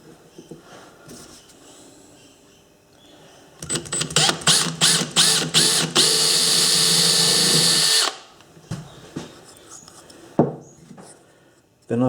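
A power drill starts in short bursts, then runs continuously for several seconds before stopping, drilling a part held steady with dividers during kerosene blowlamp repair. Faint handling noises and a few knocks come before and after.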